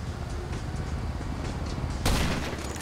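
Video game gunfire heard as a sharp, loud crack after a stretch of dense, rumbling battle noise, with a burst of further shots just behind it.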